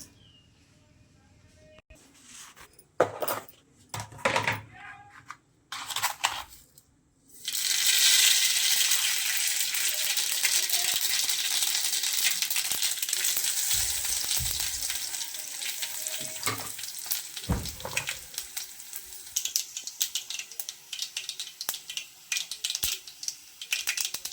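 Four or five garlic cloves go into hot oil in a kadhai: a few sharp clatters and knocks, then a sudden loud, steady sizzle that keeps crackling close up until the end.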